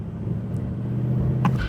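A broken Mercedes C63 AMG 507 coupe with engine faults launches from a race start, its engine a steady low rumble that swells near the end, with no one speaking.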